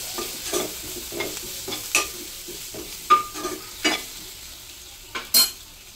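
Turmeric and garam masala stirred into a frying drumstick manchurian mix, repeated scraping strokes of a spoon against the pan over a soft sizzle, close and without talk.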